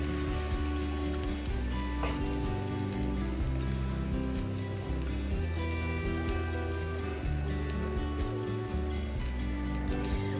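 A patty melt burger frying on the griddle right after being flipped, giving an even, dense sizzle like steady rain that holds throughout with no voices.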